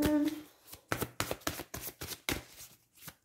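Tarot cards shuffled and dealt by hand in a series of quick riffling bursts and soft slaps, close and moderately quiet, with a brief hum at the start and no talking.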